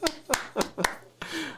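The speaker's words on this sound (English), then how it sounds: "I want to listen to clap sound all day." Four sharp hand claps in a quick, even rhythm, close and crisp, followed by a brief burst of something else.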